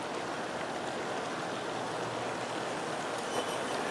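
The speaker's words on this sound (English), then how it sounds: "and the USA Trains F3 A and B units, Rio Grande units, are on the tail now, pulling the train" A long model train of 41 cars, Aristo Rio Grande engines at the head and USA Trains F3 A and B units at the tail, rolls past with a continuous even rumble and rail hiss.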